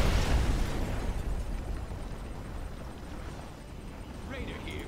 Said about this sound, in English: Nuclear missile launched.